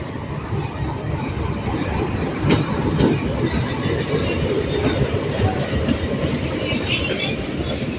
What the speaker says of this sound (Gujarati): ફાઇનલી આવી છે ટ્રેન.